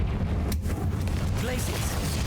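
The Confringo fire spell in Hogwarts Legacy goes off with a dense blast and rumble inside a catacomb, loud and continuous across the whole moment, with a voice speaking over the game sounds.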